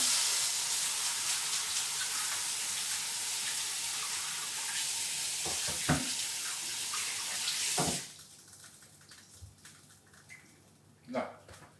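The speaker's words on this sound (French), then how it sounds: "Là, je me lave 2 secondes les mains." Tap water runs steadily into a kitchen sink as hands are washed, a loud hissing splash that cuts off abruptly, followed by faint drips and a few handling sounds.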